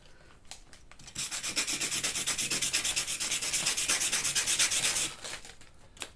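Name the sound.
sanding a Tamiya Neo Fighter buggy kit part flat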